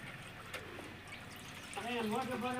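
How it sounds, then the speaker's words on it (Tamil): Cow urine mixed with garlic trickling and dribbling through a filter, a soft watery pour, faint at first and growing fuller toward the end. "இப்போ இது மாதிரி இந்த கோமியத்தை ஃபுல்லாகவே நம்ம ஃபில்டர் பண்ணி எடுத்துக்கலாம்."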